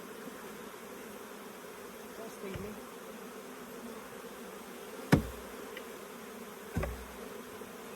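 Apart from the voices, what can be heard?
honeybees buzzing as box is dumped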